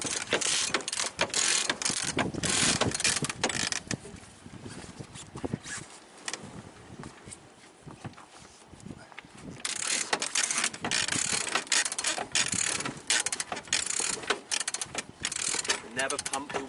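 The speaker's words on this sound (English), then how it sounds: "Never pump the winches." A sailboat winch is cranked on deck, giving a loud, close, rapid ratcheting clatter that slows in the middle and then picks up again, with brief talk in between.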